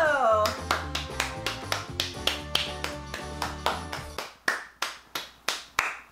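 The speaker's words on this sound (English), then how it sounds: "Nobody else is clapping" A single person claps hands in a steady run of sharp, close claps over a chord of background music, the claps becoming louder and more spaced as the music drops out near the end.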